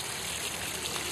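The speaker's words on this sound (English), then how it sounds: "Great looking fountain. Water comes up there in the back, kind of swirls around." Garden fountain water trickling and swirling at a boulder fountain outdoors, a close, steady, continuous burble with no pauses and no talk.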